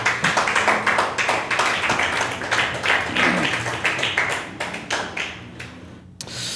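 Congregation at a church service clapping loudly and steadily together, a dense run of hand claps that thins and fades toward the end.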